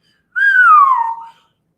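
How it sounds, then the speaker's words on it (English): A single whistle blown through the teeth, a clear airy note that starts high and slides gradually downward over about a second, close and loud with silence around it. "whistled, his breath in his teeth, like the wind blowing over the bedroom screen at night"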